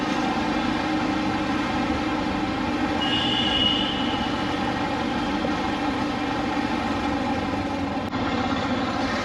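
A Delhi Metro train at the Badarpur Border station between Delhi and Haryana: a constant, loud hum and drone heard close, like a train cabin in motion, with a brief faint whine partway through and no voices.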